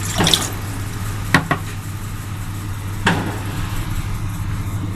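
Water poured into a pan for coconut halwa: a soft steady trickle with a few sharp clinks of a cup or utensil against the pan, close and moderately quiet.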